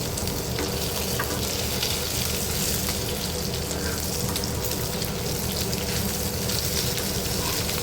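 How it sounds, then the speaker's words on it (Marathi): Semolina-coated pomfret fish shallow-fries in a pan, giving a steady, close, dense sizzle and crackle of hot oil that holds evenly throughout without pause. "पापलेटही फ्राय करायला घेतलेले आहेत सेम त्याच पद्धतीने रवा लावूनच मी फ्राय करून घेतलेला आहे"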